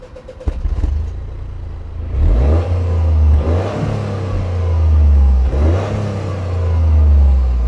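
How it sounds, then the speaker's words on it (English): A Toyota GR Yaris in sport mode revs its engine while parked, its exhaust rising in several loud, close blips with a deep, steady rumble between them and no talking. "Okay, so it is time to hear some exhaust sound."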